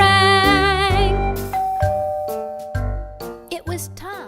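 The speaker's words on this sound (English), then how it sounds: "as the doorbell rang" A storybook doorbell rings out as a clear, bright ding-dong chime over a soft musical backing, with several tonal strikes spread across the passage.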